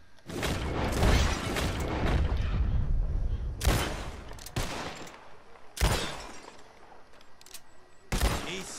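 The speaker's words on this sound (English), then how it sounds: "Whoever shoots more of these bottles wins." Loud video game gunshots ring out in a bottle-shooting contest, several sharp cracks with a long rolling burst early, then spaced single shots separated by quieter gaps.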